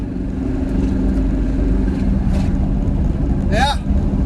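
A Land Rover Discovery II with a faulty engine, no exhaust and no catalytic converters, revved to around 3,000 RPM: a loud, rough, low rumble runs throughout, with a brief voice near the end.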